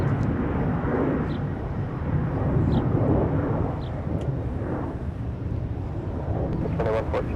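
An aircraft at Minneapolis–Saint Paul airport makes a broad, loud, steady roar that holds throughout, with faint radio chatter and talk beneath it.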